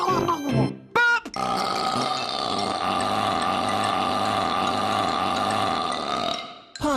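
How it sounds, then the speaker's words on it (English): A man lets out a long, loud, drawn-out voiced burp that rumbles on for several seconds, preceded by brief vocal sounds and ending abruptly. "Burp!"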